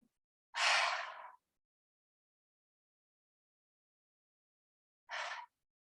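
Two big breathy exhales from the throat during a yoga practice, close and airy, with a longer first breath and a shorter second one a few seconds later, separated by silence.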